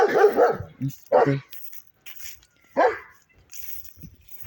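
A dog barks in a garden where conifers and thuja shrubs are being clipped into topiary shapes, sharp yelps bursting out in several short clusters between quieter gaps, fairly close.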